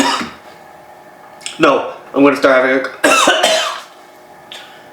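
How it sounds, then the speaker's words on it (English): Someone with a tickle in the throat breaks into a coughing fit, a series of sharp, close coughs and throat clearing mixed in with their own talking. "having a coughing match because I got a tickle"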